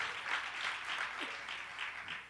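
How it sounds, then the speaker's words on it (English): A church congregation claps in praise, a soft, distant wash of steady applause with no voices over it. "Clap your hands and give God praise for the extraordinary"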